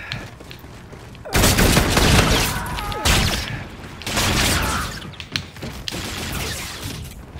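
Rapid bursts of automatic gunfire in the Call of Duty Infinite Warfare video game, loud and close, coming in several clusters with short pauses between volleys and mechanical clatter.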